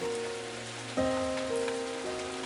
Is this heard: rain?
yes